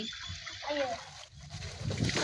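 Water from a hose splashing and spattering nearby while watering plants, uneven and gurgling, with voices talking over it.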